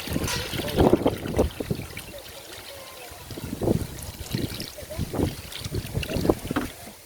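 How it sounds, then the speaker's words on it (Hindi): A cloth bundle of cow dung is dunked and sloshed in a container of about five litres of cow urine, giving irregular wet splashes and dribbles at close range with breathy handling noise between. "इसमें हम ये गोबर की पोटली को डुबा देते हैं, डुबा दें।"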